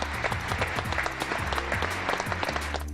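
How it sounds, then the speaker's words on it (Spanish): Applause fills the United States Capitol as lawmakers receive Mexican President Peña Nieto, a steady, dense patter of many hands clapping at moderate distance, fairly quiet and continuous throughout. "Ahí fue recibido con aplausos."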